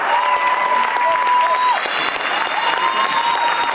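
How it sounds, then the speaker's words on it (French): Audience applause for a comedian fills a hall, steady and loud, with whistle-like tones sliding over the clapping. "faites un peu d'applaudissement"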